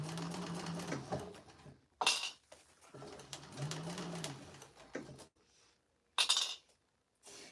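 A sewing machine stitching binding onto a bowler bag, humming in steady runs of a few seconds that stop and restart, with sharp clacks and clicks between runs and no talk.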